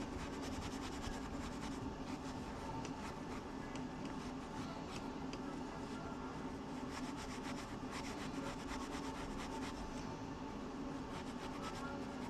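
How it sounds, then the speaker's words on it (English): A coin being rubbed and rolled against a surface to shape it into a tiny cowboy hat, giving a steady, continuous abrasive scraping that stays at an even level throughout with no voices. "Just rub it on here, roll it around, make sure you get all the edges."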